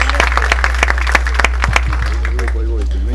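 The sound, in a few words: applause for a group of engineers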